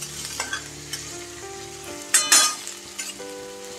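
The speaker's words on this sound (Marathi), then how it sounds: "आता छान आपल्याला कांदा परतून घ्यायचा आहे लालसर होईपर्यंत" Onion frying and sizzling in a pan with curry leaves, a steady crackle under occasional stirring and a louder burst of spattering midway, close and fairly quiet.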